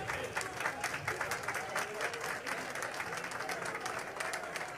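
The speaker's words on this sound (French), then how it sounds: "On applaudissement pour Dinepa." Crowd applause at an outdoor public gathering in Haiti, quiet and distant-sounding but steady, with rhythmic individual claps and some voices in the background.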